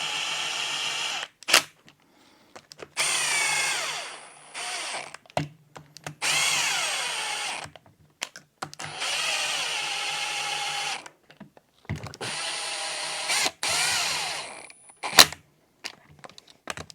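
A power drill spins bolts into the intake of a 1985 Honda 250R, several whirring bursts of a few seconds each, close and loud, separated by short clicks and pauses.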